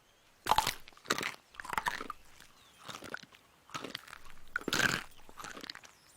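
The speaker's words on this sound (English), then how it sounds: "Granted, it takes some time to chew, but that was very satisfying." Loud crunchy chewing close to the mic, six or seven distinct bites and crunches in an irregular rhythm with short pauses between them, no talking.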